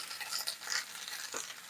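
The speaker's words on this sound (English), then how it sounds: "I'm going to add a little bit more oil so the butter doesn't burn. Now it's like we're frying." Oil and butter sizzle and crackle in a hot cast iron pan, a bright hiss with scattered pops, close and fairly quiet.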